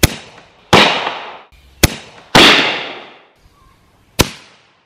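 Several loud, sharp booms from a Traditions Mini Ironsides black powder cannon, each followed by a rolling, fading echo, spaced irregularly a second or so apart.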